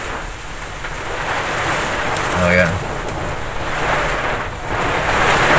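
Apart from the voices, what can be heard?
strong wind and rain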